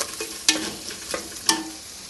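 Curry ingredients being stirred and mixed in a sizzling pan, a steady frying hiss with two sharp spoon clacks against the metal about a second apart and softer scrapes between.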